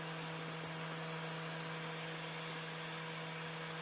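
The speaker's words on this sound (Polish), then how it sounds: "Już dawno takich głośnych napędów nie miałem." An old, cheap used computer's drive whirs in a continuous steady hum with a constant tonal drone, unchanging and fairly quiet throughout.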